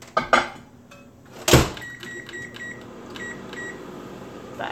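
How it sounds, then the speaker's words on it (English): A microwave oven heating water for yarn dyeing runs with a low hum, and a loud clunk and short electronic beeps come from the control panel near the start. "Actually, maybe I'll microwave this a little bit."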